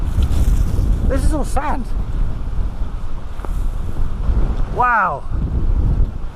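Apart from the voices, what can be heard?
wind blowing on a sandy island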